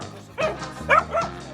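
Several dogs bark and yip in short bursts at an animal shelter, three distinct sharp barks rising close and fairly loud over a low background murmur.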